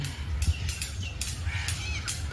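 Several crows caw in short, harsh bursts at Rabindra Sarobar lake in Kolkata, a few calls spaced over a couple of seconds against steady low outdoor noise.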